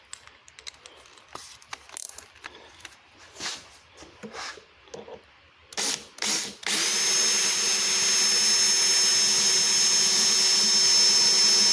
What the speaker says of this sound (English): I need to drill the oversize.